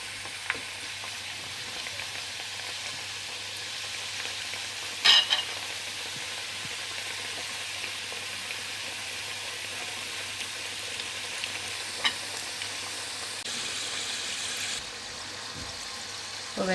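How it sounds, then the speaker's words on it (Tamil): Twisted roll snacks deep-frying in hot oil produce a steady, soft bubbling hiss that runs unbroken for a long stretch, with a few faint clinks of utensils now and then. "இப்போ எண்ணெயில் மெதுவாக போடலாம்"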